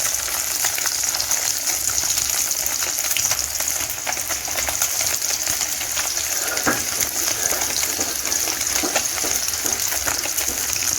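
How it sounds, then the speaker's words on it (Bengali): Bele fish frying in hot oil in a pan, giving a loud, continuous, close sizzle and crackle with occasional sharper pops, and no one speaking. "কিছুক্ষণ পর তেল গরম হয়ে এলে মাছগুলো ভেজে নেওয়া হচ্ছে"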